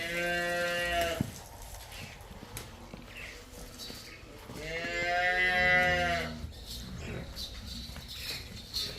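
Cattle and buffalo on a farm with cows and buffaloes for sale: two drawn-out, tonal moos or bellows from nearby animals, the second longer, with someone talking over low background noise.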